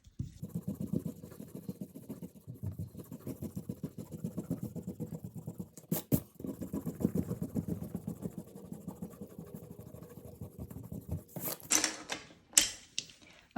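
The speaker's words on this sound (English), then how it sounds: "now I'm going to erase" An eraser rubs out a pencil drawing of Ferdinand Marcos on paper, making close, rhythmic back-and-forth scrubbing that carries on steadily before a few sharper taps and rustles near the end.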